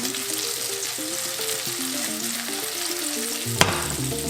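Tuna cakes fry in butter in a pan, a close, steady sizzle over a low hum, with one sharp clack of a utensil near the end and no talking.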